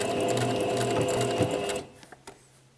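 A sewing machine back stitches along a fabric edge, a loud, close, rapid mechanical whir that runs steadily for nearly two seconds. It cuts off into quiet with a few small clicks and handling taps.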